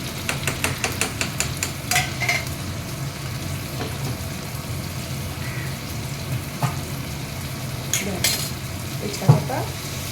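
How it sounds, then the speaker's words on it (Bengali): Maharashtrian thecha, a crushed chilli paste, sizzles steadily in hot oil, close by, while a utensil stirs with occasional clinks and scrapes against the pan. "এই যে এবার তেল গরম হয়ে গেছে, ওইটার মধ্যে আমি এই ছেঁচাটা দিয়ে দিলাম।"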